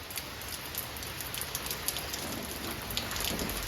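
Steady rain patters on a surface, with scattered droplet taps over a soft hiss, fairly quiet and continuous.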